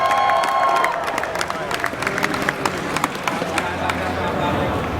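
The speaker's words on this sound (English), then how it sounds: "Crowd, let me hear some noise if you're here cheering on for OpTic." A crowd at an esports event, MLG Dallas 2013, cheers for OpTic Gaming with scattered claps and shouts. The noise is moderate and sits under voices that carry on through the clip.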